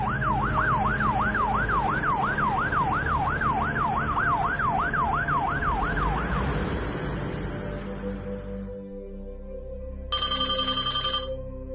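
An ambulance siren wails in a rapid repeating up-down pattern, then fades out; near the end a phone starts ringing loudly.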